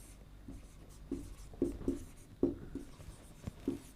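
Chalk or marker writes a sentence on a board in a classroom lesson, with faint, intermittent taps and short scratchy strokes spaced irregularly in a quiet room.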